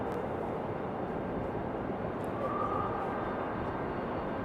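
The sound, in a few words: airliner taxiing at Raleigh-Durham airport, Delta 737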